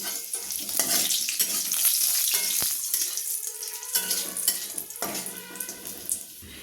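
Bay leaf and a dried red chili fry in hot oil with a bright, close crackling sizzle, broken by stirring and light clinks of a utensil against the pan.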